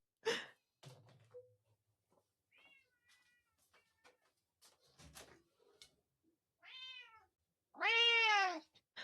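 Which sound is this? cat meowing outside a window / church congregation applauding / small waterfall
cat meowing outside a window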